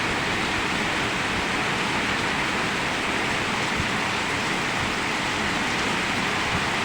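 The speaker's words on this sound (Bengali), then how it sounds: "দেখুন একবার কীভাবে বৃষ্টি হচ্ছে, প্রচুর পরিমাণে বৃষ্টি হচ্ছে, রাস্তায় জল জমে গেছে।" Heavy rain pouring down outdoors with water pooling on the road, a dense, constant hiss at even loudness throughout, with no voices.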